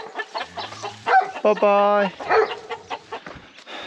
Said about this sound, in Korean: 닭들이 또 이렇게 있네.